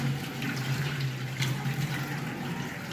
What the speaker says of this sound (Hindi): और पानी इसमें निकलेगा।